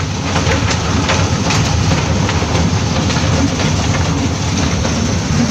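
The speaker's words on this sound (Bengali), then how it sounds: "টয় ট্রেনের মাধ্যমে পুরো পার্কটাকে ঘুরে দেখা যাচ্ছে" A toy train carries riders around the park of the rail museum in Howrah, Kolkata, its steady running rumble and wheel clatter continuous and fairly loud throughout, with no talk.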